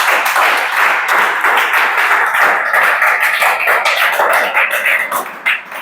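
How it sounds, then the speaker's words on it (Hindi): Students in a police recruitment coaching class in Chhattisgarh clap their hands together in a loud, dense round of applause lasting several seconds before it thins out at the end. "ताली बजाओ जी"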